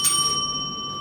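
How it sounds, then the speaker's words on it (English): A single debate timer bell strikes once, bright and ringing, then sustains a long clear decaying tone in a quiet room. "the bell will ring twice"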